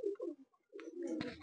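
A Malwai pigeon coos at close range, giving a few soft, low throaty phrases separated by brief pauses, with no other sound around them.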